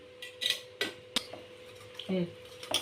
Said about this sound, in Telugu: ఇదంతా మంచిగా కలుపుకుందామండి